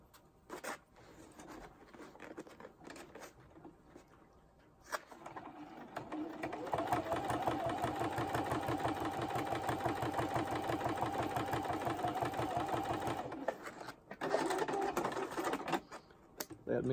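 A sewing machine stitches an outline on quilted acrylic-painted pineapple artwork. It runs steadily and rapidly for several seconds, close and fairly loud, after quieter handling noises.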